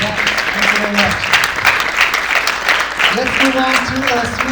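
An audience claps steadily throughout at a film festival Q&A in Stockholm, Sweden, a dense, even wash of applause with a voice speaking briefly over it.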